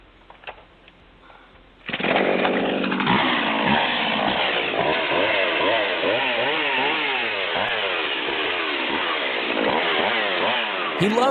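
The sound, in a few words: chainsaw running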